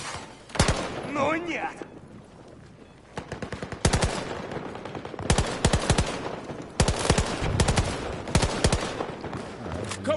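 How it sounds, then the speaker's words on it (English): Battlefield 2042 video game gunfire crackles in loud, sharp bursts of automatic shots separated by short gaps, with a shouted voice and battlefield chatter in between. "Я под обстрелом!"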